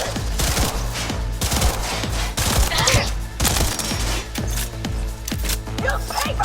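Police gunfire from the video game Cyberpunk 2077 crackles in a dense, rapid fusillade of shots over a pounding music beat, with shouted voices mixed in throughout.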